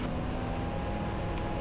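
Light aircraft engines run up to full power with the brakes held at the start of a takeoff roll, producing a steady, dense roar with a faint tonal hum. The roar stays constant throughout.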